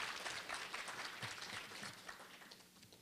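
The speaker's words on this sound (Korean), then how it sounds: "박수 부탁드립니다." Audience applause at a Korea University KU-KIST graduate school entrance ceremony, a steady wash of many hands clapping through the room, fairly loud and continuous with little speech.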